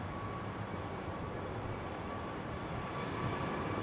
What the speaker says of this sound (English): Southwest finally made up their mind. Finally getting on the runway, getting a move on.